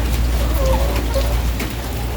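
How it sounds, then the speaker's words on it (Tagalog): Rain falls steadily outdoors while chickens are being fed, a dense, close patter on surfaces with a constant low rumble beneath. "pero umuulan naman"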